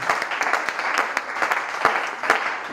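Church congregation applauding, dense lively clapping from many hands with a steady rhythm and close sharp claps standing out, no speech over it.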